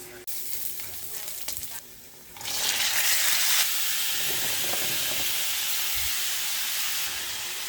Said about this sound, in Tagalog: Tapos ito guys, ipiprito ko rin yan.